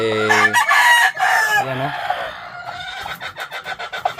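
Brooding hens sitting on eggs give loud, close drawn-out calls and then a rapid string of clucks.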